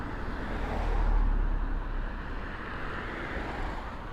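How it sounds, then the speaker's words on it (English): A car passes on a nearby road at night, its low rumble swelling and then easing into a steady roadway hum, with no talking over it. "I'm enthusiastic about these car noises."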